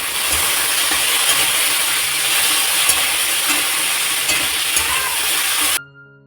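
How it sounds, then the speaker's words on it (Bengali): Potatoes fry in a pan with a loud, steady sizzle that hisses on for several seconds and then cuts off abruptly. "এর জন্য একটু আলু ভাজা বসিয়ে দিলাম"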